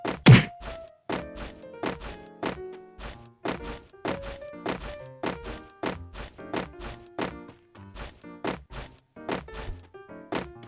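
A series of sharp, hollow thuds and taps at an uneven steady pace, each with a short ringing tail: footsteps on a hard surface in the mobile game Free Fire.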